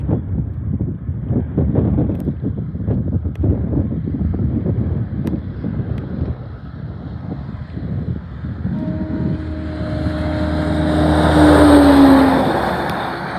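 An 18-wheeler truck rolls past on the road and gives a sustained, moderately loud horn tone near the end, over a rising rumble of engine and wind; no one speaks.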